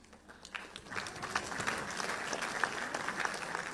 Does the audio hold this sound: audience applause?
yes